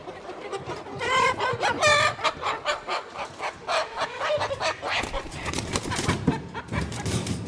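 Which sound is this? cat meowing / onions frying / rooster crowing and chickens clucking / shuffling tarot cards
rooster crowing and chickens clucking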